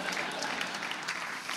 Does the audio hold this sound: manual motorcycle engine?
no